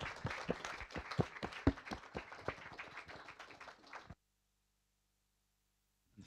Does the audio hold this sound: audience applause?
yes